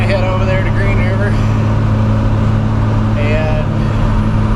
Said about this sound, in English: So I hopped in the truck and we're going to head over there to Green River